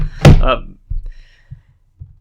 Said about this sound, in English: Slammed it on the desk because I hit the connector.